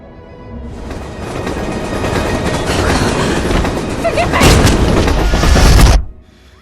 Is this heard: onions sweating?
no